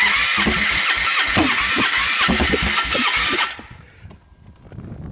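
A Polaris Trail Boss 325 ATV engine fires on a first start attempt and runs loudly and roughly for about three seconds up close, then cuts off abruptly into quiet.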